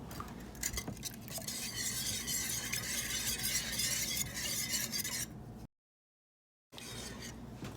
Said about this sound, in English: I'm gonna whisk it and mix it all together